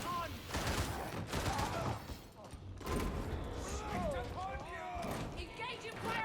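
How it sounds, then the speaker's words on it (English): Bursts of gunfire in Warhammer 40k: Darktide, rapid shots rattling in short volleys at moderate distance, mixed with game effects and a voice speaking during the fight. "Or there's shooting happening anyway."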